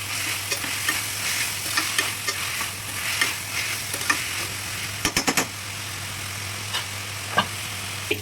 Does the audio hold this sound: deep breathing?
no